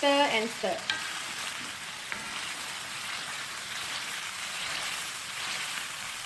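A spoon stirs Malabar chicken biryani masala in a pan, with a brief scrape at the start, then a steady close sizzle and frying hiss continuing alone.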